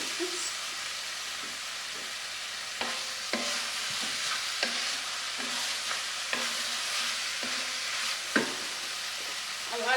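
Meat sizzles steadily in a hot pan with spices while a utensil scrapes and stirs in irregular strokes, with a few sharper knocks against the metal; close and continuous, with no voices.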